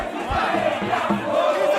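A large crowd at a chief's funeral roars and cheers in a dense, continuous wash of voices, loud and close all the way through.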